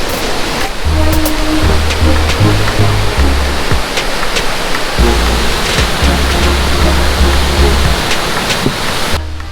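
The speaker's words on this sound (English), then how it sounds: "It's raining so much." Heavy rain and rushing water fill the air at Kifune Shrine, a loud, dense, constant roar close by with no voices.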